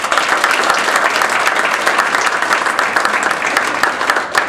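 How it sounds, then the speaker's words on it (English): Loud, sustained applause from an audience at a university luncheon, many hands clapping in a dense, even wash for several seconds without a break. "Give her a big round of applause."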